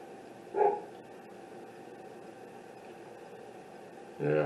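A dog barks outdoors a short way off, two brief bursts at the start and end, heard faintly over a steady hiss of background noise.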